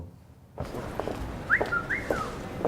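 A person whistles a brief tune fragment of the Marseillaise in a few short sliding notes, faint against a noisy indoor background, with no talking.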